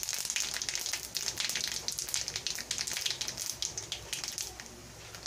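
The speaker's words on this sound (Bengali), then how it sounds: "ওই তেলে তেজপাতা, শুকনো লঙ্কা আর হাফ টিস্পুন গোটা জিরে ফোড়ন দিয়ে দেব। ফোড়নটা আমি ভালো করে ভেজে নিলাম।" Bay leaf, dried red chilli and whole cumin seeds fry in hot oil as a tempering, a continuous close crackling sizzle with fine popping spits throughout.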